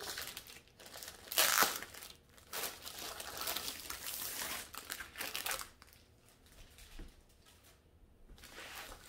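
Plastic packaging around a diamond art kit crinkles and crunches as it is unwrapped, with a loud burst of crumpling early on, then steady rustling that eases toward the end, close up and with no talk.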